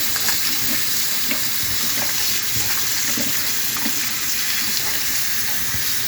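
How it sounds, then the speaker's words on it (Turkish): Artichokes being rinsed under a running kitchen tap while making stuffed artichokes, giving a steady, close rush of flowing water that lasts the whole stretch with small splashy variations and no talking. "Şimdi suyun altında da biraz açma yapacağım. Yaprakların arasını güzelce yıkıyorum."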